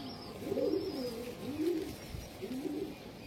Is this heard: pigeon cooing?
yes